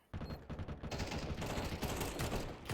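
Rapid bursts of gunfire from the Counter-Strike 2 video game crackle continuously over a short stretch, dense and fairly loud, with no voices over them.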